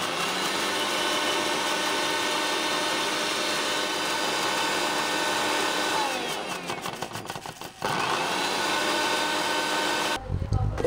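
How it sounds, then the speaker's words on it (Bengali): Electric mixer grinder blending sugar and coffee for cold coffee, a loud steady whirring motor that runs continuously, briefly sputters and pauses near the end, then restarts. "এবার মিক্সিটাকে বন্ধ করে আমি এটাকে ভালো করে ব্লেন্ড করে নেব।"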